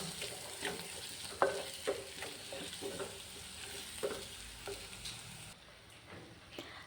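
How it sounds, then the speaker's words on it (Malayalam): Mashed boiled potato masala filling for masala dosa is stirred and fried in a pan, with a soft frying hiss beneath irregular spatula scrapes and taps, fairly quiet and close. "എല്ലാം കൂടെ നന്നായിട്ട് മിക്സ് ചെയ്തെടുക്കാം."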